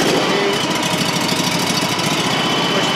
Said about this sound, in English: To start your 21 horsepower Honda motor,